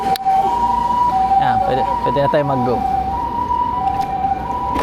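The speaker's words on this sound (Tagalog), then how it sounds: "paunahin lang natin yung ambulansya" A steady wailing ambulance siren drones throughout, loud and close, while someone speaks briefly over it, in Japan.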